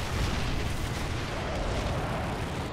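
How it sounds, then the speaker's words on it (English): Sustained roaring blast from a rocket explosion in Call of Duty: Ghosts, loud and dense with a broad rumbling wash that holds for the whole moment. "Oh, that's a rocket."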